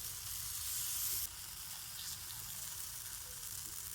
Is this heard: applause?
no